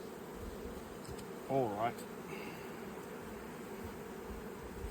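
Healthy honeybees in an open hive during an inspection make a faint, steady buzzing drone throughout, with a brief louder burst near the middle and a quick spoken aside.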